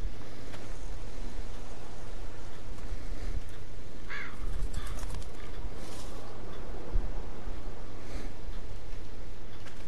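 Crow cawing in The Walking Dead video game, a few brief calls rising out of a steady windy, hissing ambience.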